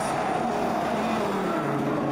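Toyota Gazoo Racing rally cars roar past at speed, a loud, sustained engine rush with falling pitch as they sweep by, filling the whole moment without talk.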